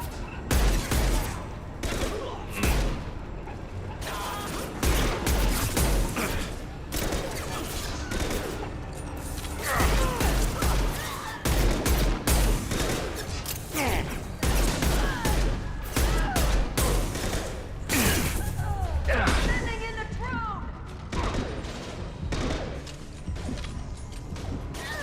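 Gunfire in Mass Effect 2 Legendary Edition, a dense, continuous battle of rapid gunshots and heavy impacts, loud and close, with bursts of automatic fire and crashing hits throughout.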